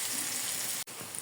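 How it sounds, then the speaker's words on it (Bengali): Onion softening in salt as it fries in a pan gives a steady, close hiss of sizzling, with a brief dropout near the end before the frying resumes. "এখন একটু সময় ভেজে নেব"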